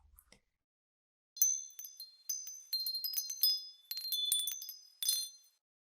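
Small bells tinkle and ring in a quick, bright cluster of clear metallic chimes, several strikes over a few seconds, alone in silence.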